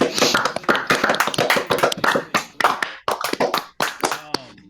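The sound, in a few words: group applause, clapping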